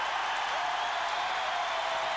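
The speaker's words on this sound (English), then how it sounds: "you can hear the appreciation from this crowd" A packed basketball arena crowd at a 1993 Indiana vs Northwestern game applauds and roars after a record-breaking basket, a dense, loud, continuous wash of clapping and cheering with no clear voice on top.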